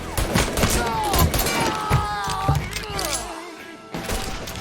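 Gunfire in the video game Mafia 3, rapid bursts of shots and heavy thuds under shouted voices, dense and loud, with a brief lull near the end before more firing.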